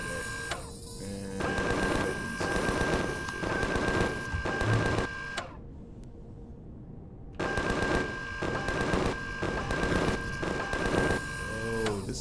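Rapid automatic gunfire in Empyrion Galactic Survival, loud bursts of sharp repeated shots with a brief pause mid-sequence, layered with steady mechanical game tones.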